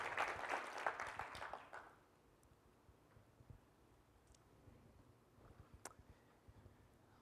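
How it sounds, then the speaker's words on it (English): An audience at a school district's State of the District address in Savannah gives a short burst of applause that fades within two seconds, leaving a quiet room with faint scattered sounds. "So big round of applause for Curtis V."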